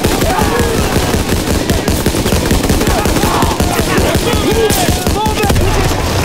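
Rapid machine-gun and rifle fire rattles in dense bursts during a World War II battle in Call of Duty WWII, loud and close, with shouted soldier voices mixed in.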